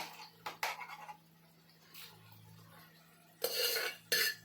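A vegetable mixture of bottle gourd and tomato in oil is stirred in a pan, with a few scraping, clinking utensil strokes against the metal, then quiet simmering, then two louder bursts of scraping near the end.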